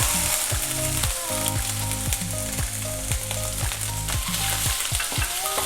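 Steady crackling sizzle of ginger frying in hot oil, loud and close, with occasional clinks of a utensil against the pan.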